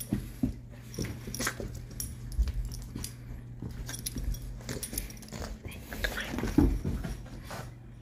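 A Boston terrier whimpers and snuffles in short, soft bursts against a busy, rustling background, with faint low voices now and then.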